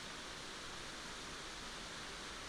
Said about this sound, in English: And this is the largest waterfall on this hike.